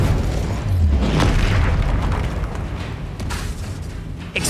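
An Incendio fire spell blast in Hogwarts Legacy, a loud, continuous roaring whoosh with deep booming rumble that swells early and holds steady throughout.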